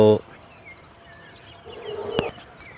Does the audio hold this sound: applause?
no